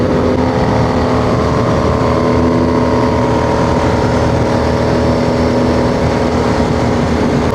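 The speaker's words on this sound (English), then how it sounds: "listen to that Honda" A Honda engine drones loud and steady close by on a road trip through Botswana and Namibia, a constant rumbling roar without clear revving peaks, with no talk.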